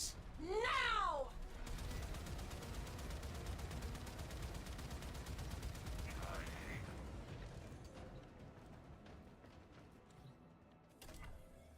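Enemy fire in the sci-fi shooter Warframe gives a dense, rapid rattle of weapon shots that fades gradually, along with whooshing game effects and a short burst near the end.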